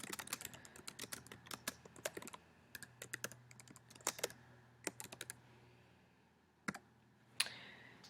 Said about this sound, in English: So I just click and I can type